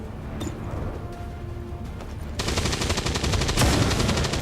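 Rifle fire from a soldier in XCOM 2, a burst of sharp rapid shots that grows louder midway and stays dense to the end, with a low game rumble beneath.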